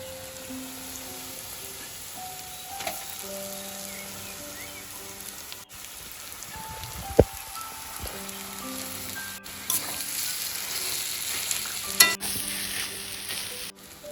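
Mashed potato paste with coriander powder, salt and spices frying in a pan for an egg and potato chop, a steady low sizzle with spoon scrapes and a few sharper knocks, no voices.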